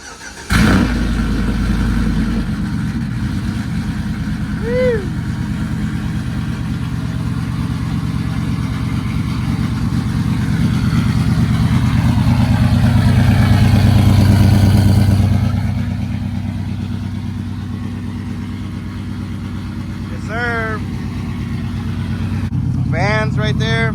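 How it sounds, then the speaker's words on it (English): A truck engine cold starts with a brief crank and catch, then settles into a steady, rumbling idle that swells slightly before easing, recorded close with faint chirps from the engine bay. "Let's get a cold start."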